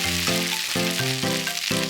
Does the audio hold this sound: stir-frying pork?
yes